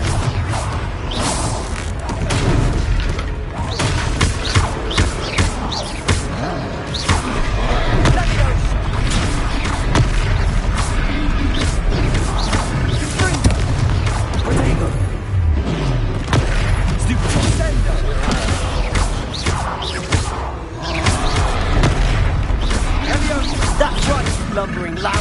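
Booming magical blasts and whooshes in the Hogwarts Legacy video game, a dense, loud, continuous battle din where the Confringo explosion spell can't be singled out, with game voices speaking over it.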